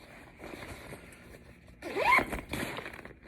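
The zipper on a waterproof bag organizer is pulled in one quick, close zip, with light handling rustles before and after.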